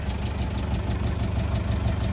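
A 300Tdi diesel engine in a 1988 Land Rover 110 idles close by with a steady, even, rhythmic chug that holds at one pitch throughout.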